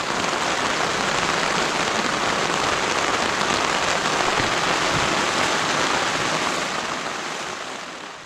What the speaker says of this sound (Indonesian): Besar hujannya.